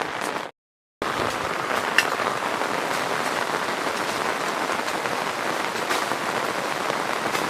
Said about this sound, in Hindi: हालांकि बारिश से थोड़ा सा परेशानी हो रही है